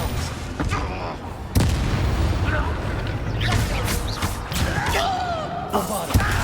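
Confringo and Expelliarmus spell casts in Hogwarts Legacy, a string of sharp magical blasts and thumping impacts during combat, loud and close, with a voice shouting over the effects.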